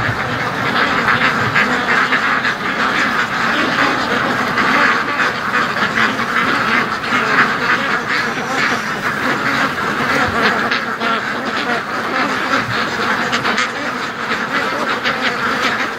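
Domestic ducks quack continuously as a flock, loud and close, with overlapping calls forming a dense, busy chorus that runs for the whole stretch without pause.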